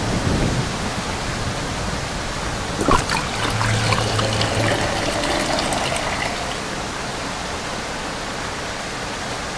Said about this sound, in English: Oh, look at this! Rain!